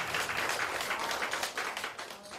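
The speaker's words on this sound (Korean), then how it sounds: "두 분에게 박수를 크게 한번 쳐주실까요?" An audience applauds at a gathering, a dense wash of clapping holding steady and then thinning slightly toward the end, with no speech over it.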